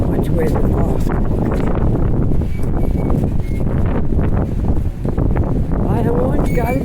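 Strong wind blows along a street in Halifax's North End, roaring loud and continuous as gusts buffet the microphone, with a muffled voice faintly heard beneath now and then.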